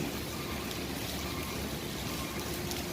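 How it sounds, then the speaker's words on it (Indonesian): Steady rain falls at Merak ferry port, a dense, even patter with no breaks and no talk. "suasana hujan"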